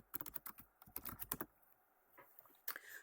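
Quick bursts of keystrokes on a computer keyboard as a web address is typed, a rapid run of clicks, a pause, then a few scattered taps and one final firm press, close and fairly quiet.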